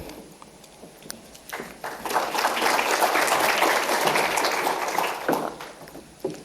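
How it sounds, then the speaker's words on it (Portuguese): Applause from the audience at a São Paulo metropolitan urban transport planning event, welcoming a Sistra Brasil project coordinator; a dense burst of clapping swells and holds for several seconds, then tapers. "vamos receber uma salva de palmas, Felipe Cremonesi"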